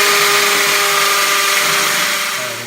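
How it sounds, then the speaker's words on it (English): A hammer drill bores into a cement floor, giving a loud, steady, high whine that holds constant and then tapers slightly at the end. "Make sure your drill is on the hammer setting because we're drilling into cement."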